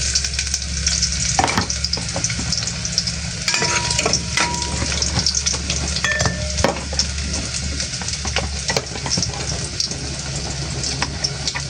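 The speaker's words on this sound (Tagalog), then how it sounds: "Atin na pong i-digisa itong bawang." Garlic sizzles and fries in a pan for cooking, a steady crackling hiss with occasional stirring scrapes, under a constant low engine-like hum in the background.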